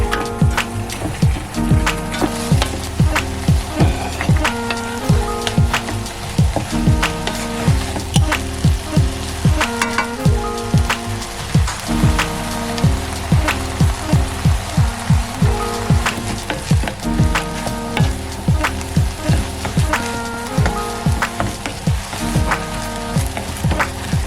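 Frozen vegetables frying in a pan, a loud, dense crackling sizzle with rapid popping spatters continuing steadily throughout, close and alone.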